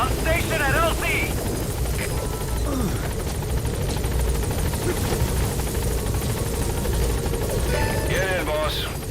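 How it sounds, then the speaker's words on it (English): A support helicopter in Metal Gear Solid V: The Phantom Pain arrives with a loud, steady rotor roar that runs throughout, while voices talk over it at the start and end. "Support helicopter has arrived."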